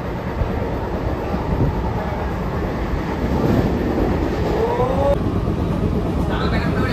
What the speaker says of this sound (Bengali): আমাদের এই ট্রেন টিটাগড় স্কিপ করে তারপর দাঁড়াবে হচ্ছে ব্যারাকপুরে